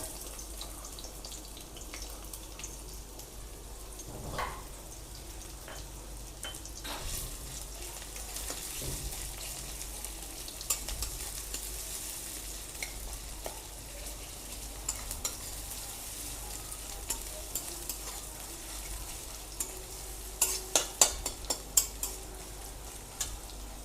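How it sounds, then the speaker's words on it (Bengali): A medium chopped onion fries in hot oil with a low, steady sizzle, broken by scattered stirring scrapes and a burst of sharper clatters near the end. "তেল গরম হয়ে গেছে, এবার দিয়ে দেবো একটা মাঝারি সাইজের পেঁয়াজ কুচি করা।"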